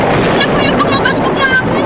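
Strong, gusting wind effect from a Hiligaynon-language radio drama, a loud, continuous whooshing rush with faint whistling streaks filling the whole stretch with no pause.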